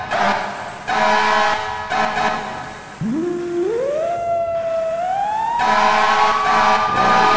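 A fire engine, engine 32, in the emergency-response game EmergeNYC, its siren winding up from a low growl into a rising wail that climbs and holds steady over a constant vehicle rumble, loud and close.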